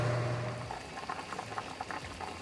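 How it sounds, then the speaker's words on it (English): Chicken soup bubbles and pops at a steady rolling boil in a pot over a high gas flame, a continuous close-up simmer of small irregular bursts with no voices. "As you see, the soup is fully boiling."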